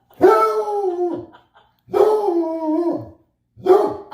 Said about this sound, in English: Go bark at the fish.